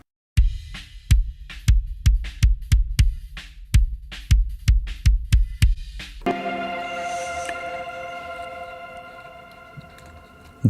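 A series of deep, punchy kick drum thumps captured by two microphones repeats at an uneven rhythm, then gives way to a sustained, ringing tonal hum that slowly fades.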